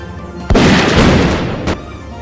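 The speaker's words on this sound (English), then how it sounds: "he parachutes in these squirrels that have bombs attached to them" A squirrel bomb blows up in the video game Zeno Clash, one loud, heavy boom that rumbles for about a second before a second sharp burst.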